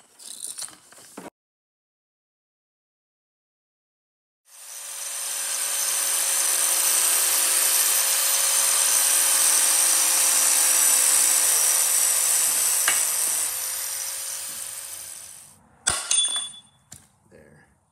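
A 1947 Pond lever-steer garden tractor's cast lever is cut through at its weld by a steady, high-pitched power cutting tool that runs for about eleven seconds alone, preceded and followed by brief clanks and handling noises.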